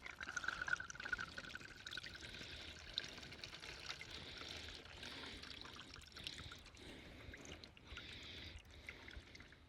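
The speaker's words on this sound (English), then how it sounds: "we're going to tip all the fuel out" Diesel fuel tipped out of a Mitsubishi Pajero Gen 4 fuel filter housing, giving a steady close liquid pour and trickle with faint splashing, running continuously with no talking.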